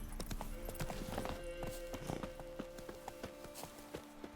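Horse hooves clip-clop at a steady walking pace in The Witcher 3, with faint in-game ambience and a low tonal hum underneath, moderately close and fairly quiet.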